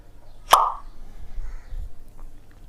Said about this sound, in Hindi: पॉप साउंड कैसा आता है, जैसे कि बोतल खोलते हैं तो जैसा आवाज़ आता है उसको बोलते हैं पॉप साउंड